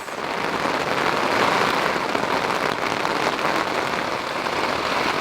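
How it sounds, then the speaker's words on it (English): Heavy rain drums steadily on a tent overhead on Acatenango Volcano, Guatemala, a dense, loud, continuous patter with no pauses. "It's a war zone in here. This ain't no California rain."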